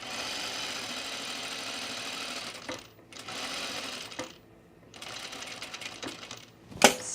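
A sewing machine runs in close, steady bursts while stitching a blouse collar, pausing twice briefly, with a sharp clack near the end.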